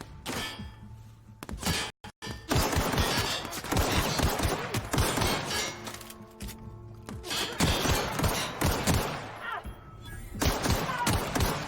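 Hunting rifle gunfire in the video game The Outer Worlds: loud, sharp shots and heavy impacts in rapid, dense bursts through most of the stretch, with short pauses between volleys.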